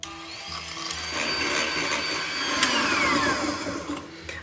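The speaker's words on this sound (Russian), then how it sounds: "взбиваю вот до такой нежной, пышной массы" Eggs and sugar being whipped in a mixing bowl with an electric mixer, a continuous whirring buzz at moderate level that swells slightly midway and runs alone without talk.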